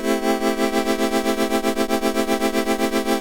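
Sustained synth tone from a GS Bree6 pulses in a steady fast tremolo, its volume rising and falling rhythmically from LFO amplitude modulation, bright and buzzy with no voice present.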